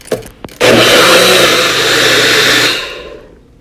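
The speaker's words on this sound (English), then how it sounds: "I'm just going to blend away for at least 2 minutes." A blender whirs at high speed through carrots and cantaloupe for juice, a loud steady grinding roar that kicks in abruptly after a couple of brief clicks, holds for about two seconds, then winds down.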